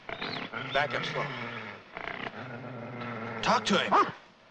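A guard dog growls low and close in several drawn-out rumbles, broken by short pauses, with no other sound standing out.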